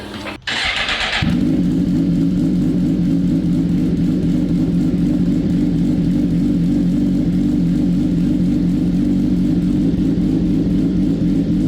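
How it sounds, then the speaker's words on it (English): Suzuki GSX-R1000R motorcycle cranks on the starter, fires up with a sharp burst, then settles into a loud, close, steady idle with an even mechanical throb that continues unbroken. "Now we are gonna start the bike."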